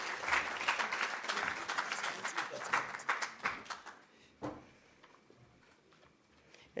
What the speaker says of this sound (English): May we give a round of applause so that he can come to the phone?